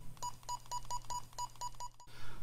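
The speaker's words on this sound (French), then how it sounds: "c'est le bip lorsqu'on appuie sur une touche" A rapid series of about eight short electronic key-press beeps from a Midland G7 walkie-talkie radio in even rhythm, close and clear, over a low steady hum.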